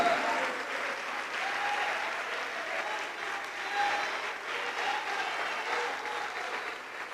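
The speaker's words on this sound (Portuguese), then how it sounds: "Vamos aplaudir ao nome do Senhor Jesus por cada vida que está chegando" A church congregation applauds during a sermon, sustained even clapping that holds steady and fairly loud throughout, with faint voices mixed underneath.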